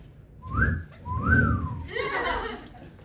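A man on a street giving an old-timey catcall whistle, imitated by a voice: two rising-and-falling whistled swoops, close and clear, followed by a breathy trailing sound.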